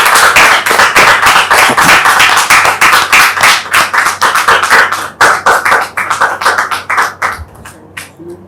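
A studio audience claps to welcome a guest onto a television set. The clapping is loud and close, with sharp individual hand claps in a rapid, steady rhythm that thins out toward the end.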